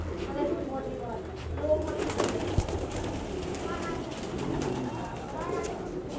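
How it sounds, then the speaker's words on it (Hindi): Pigeons coo softly in a loft in overlapping low calls, with occasional wing flutters and faint background voices. "ऊपर लॉफ्ट में इनमें ये देखिए बहुत अच्छे अच्छे कबूतर हैं"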